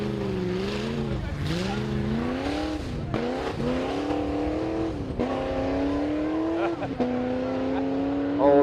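A drift car approaches on a race track during a live event, its engine note rising and falling with revs and faint tyre squeal, heard from a distance and steadily growing louder.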